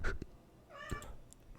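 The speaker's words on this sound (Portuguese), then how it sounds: "Era avião, agora é um gato." A cat meows near a home, a soft mew followed by a longer, clearer drawn-out meow, heard quietly and alone.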